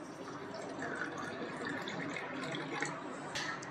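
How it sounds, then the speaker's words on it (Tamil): Water poured onto a spoonful of sabja (basil) seeds in a kitchen for kulukki sarbath, a steady, soft continuous trickle and splash lasting throughout, close and moderately quiet, with a brief brighter splash near the end. "இப்போ இதில் தண்ணி சேர்த்துக்கலாம்."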